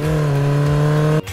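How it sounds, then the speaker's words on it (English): A steady, droning motorcycle engine hums at a high idle for about a second, then cuts off abruptly. "A motorcycle sounds like this."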